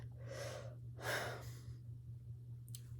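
A long, breathy yawn with a drawn-out inhale and a sighing exhale, followed by a short sniff, over a steady low hum.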